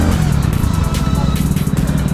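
Motorcycle ridden through heavy road traffic in Rishikesh, its mid-pitched engine droning steadily and close with a rough, clattering texture, surrounding vehicles blending into a continuous loud rumble.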